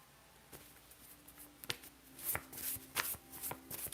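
A deck of cards is shuffled by hand close up: soft riffling patter and crisp snaps in quick irregular bursts, growing busier toward the end, in a quiet room with no talking.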